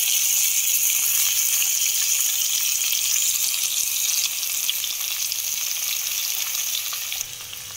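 Onions frying in a pan for sambar with tomatoes just added, giving a steady loud sizzle and hiss that stays even throughout and eases slightly near the end, with no talking.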